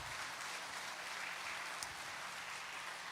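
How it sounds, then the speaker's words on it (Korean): Applause from a church congregation during a sermon, a faint, distant, even wash of clapping that holds steady throughout. "우리 박수 한번 보내주세요."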